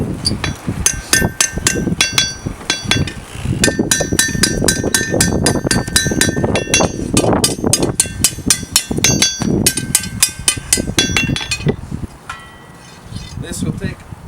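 Repeated ringing strikes of a 2.5 pound cross peen hammer on a hot forged blade, a fast steady rhythm of sharp metallic clinks close by, then a pause near the end.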